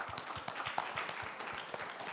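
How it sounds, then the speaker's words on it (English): A school audience applauds students, a steady patter of many hands clapping at moderate distance, continuous and even throughout with no voices over it. "Can we give them a round of applause?"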